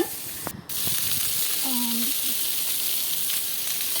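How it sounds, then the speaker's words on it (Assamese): Steady hiss of moong dal frying in a hot pan, even and continuous throughout, with a few faint clinks and brief rustles near the start. "মোৰ মগুৰ দালি ভজা হৈ আছে।"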